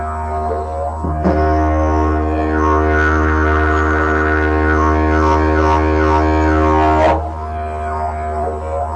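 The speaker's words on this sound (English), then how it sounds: "I'll demonstrate it once more on the didgeridoo." A didgeridoo drones low and steady, then a rhythmic tongue-pulsed pattern ripples through the tone for several seconds before it settles back to the plain drone.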